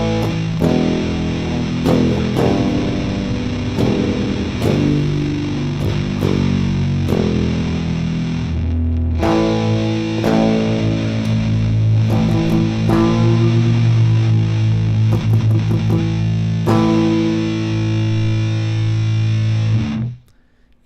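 Heavily distorted electric guitar through a 112 cabinet impulse response, a dense, loud wall of sustained chords with brief gaps and odd processed artifacts, cutting off abruptly at the end.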